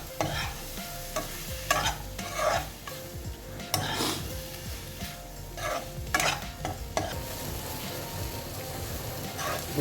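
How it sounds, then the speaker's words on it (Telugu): Tomatoes frying in masala for a cauliflower and potato curry, stirred with a utensil scraping the pan in repeated strokes over a steady close sizzle. "ఇప్పుడు దీంట్లోకి మనం టమాటాలు యాడ్ చేద్దాం. టమాటాలు మెత్తపడేంత వరకు దీన్ని వేయాలి."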